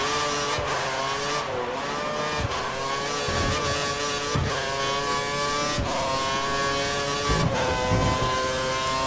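A Formula 1 car engine screams at full revs in F1 2013 at the Australian Grand Prix, a steady high-pitched whine held close and loud with brief gear-shift dips.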